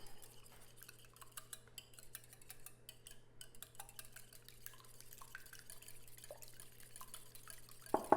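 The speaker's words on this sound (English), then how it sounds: "I'm gonna whisk this up" Eggs with a pinch of salt are whisked in a bowl, giving a faint, rapid, steady ticking of the whisk against the bowl over a low background hum.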